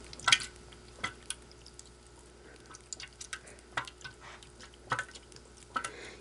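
Water for Sea-Monkeys being stirred and mixed in a small container: soft, irregular drips and light sloshing splashes, close and quiet, with a few sharper clicks of the utensil and no talk.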